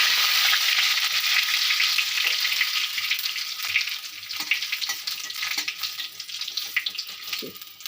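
Two or three dried red chillies hit hot oil as a tempering for a leafy curry, a loud close sizzle that eases into crackling spits and scrapes of stirring.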